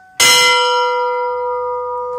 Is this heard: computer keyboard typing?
no